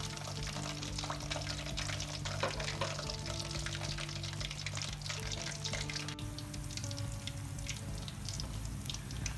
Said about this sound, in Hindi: इनको भी हम हल्की आंच पे 10 मिनट के लिए फ्राई करेंगे।